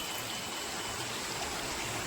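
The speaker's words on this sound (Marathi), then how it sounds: "तर आता आम्ही आमच्या व्हाळामध्ये आलो आहे थोड्याफार प्रमाणात पाणी आहे" A small village stream in the Konkan countryside carries only a little water, giving a faint, steady trickle and wash of flow throughout, with no voices.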